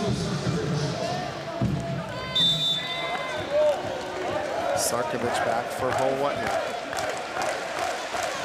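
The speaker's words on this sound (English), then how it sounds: "the crowd's starting to get into it" A college volleyball arena crowd, Hawaii hosting Pepperdine, murmurs and rises steadily in the background while a commentator talks over the constant noise.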